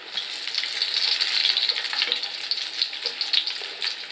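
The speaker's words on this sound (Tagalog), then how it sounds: "So, ayan, nakasalang na yung nuggets nila." Continuous crackling sizzle of chicken nuggets frying in hot oil, close and steady, with small pops scattered throughout and no talking.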